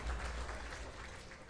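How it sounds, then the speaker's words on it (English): A tournament crowd applauds a great play at a Street Fighter fighting-game regional finals event, a steady wash of faint, distant clapping that holds throughout. "Crowd gives it up for great play."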